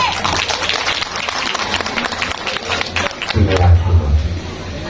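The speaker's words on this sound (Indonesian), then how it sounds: "Tepuk tangan." Audience applause breaks out at a community thanksgiving gathering with a traditional Javanese performance in Gandusari, Blitar, East Java: steady broadband clapping runs throughout, swelling louder near the end over a low hum and mixed voices.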